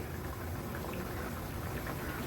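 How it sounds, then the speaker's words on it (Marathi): Steady bubbling simmer of shrimp-roe curry boiling in a pot on high flame, a continuous low churning hiss with faint pops, no voices. "कालवणाला पण छान उकळी आली आहे"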